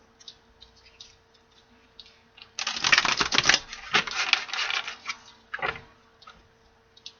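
A rapid burst of dry, riffling tarot-card shuffle clicks, near and fairly loud, followed by a few shorter shuffles and taps in a quiet room.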